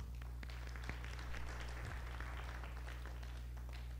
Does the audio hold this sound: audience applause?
yes